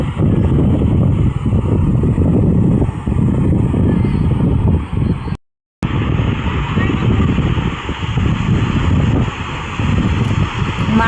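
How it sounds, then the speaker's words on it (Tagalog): Strong wind buffets the microphone at a cold, overcast seaside, a loud continuous rumble that drops out briefly midway, with a voice talking over it. "naririnig nyo naman sa background kung gaano kalakas yung hangin"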